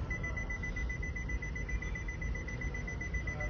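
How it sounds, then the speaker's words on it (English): A steady, rapid electronic beeping at a constant pitch from a car in reverse gear, over a low background rumble. "And it's beeping like that because the car's in reverse."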